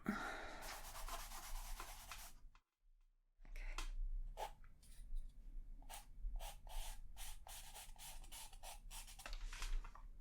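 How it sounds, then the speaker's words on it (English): Charcoal sketch on paper being rubbed out, soft brushing scrubs followed by a short pause and then a series of brief scratchy strokes, close and quiet in an ASMR setting. "I'm rubbing that out and I'm starting over"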